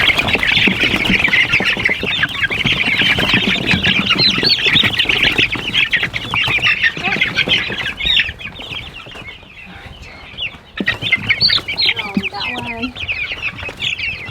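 A small flock of young chickens clucks and chatters busily in a chicken tractor, loud and close. The flock noise is continuous with occasional sharper peeps toward the end.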